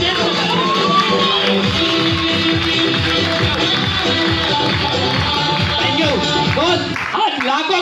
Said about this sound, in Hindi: मैं चाहता हूँ दिल से अभी तक की ताली बजाते।